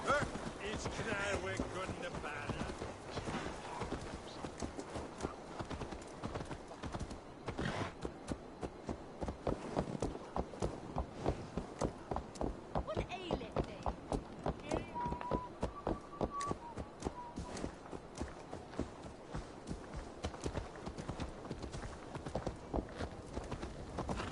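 Galloping horse hooves in Assassin's Creed Valhalla drum a fast, steady beat over game sound and music, with occasional voices mixed in.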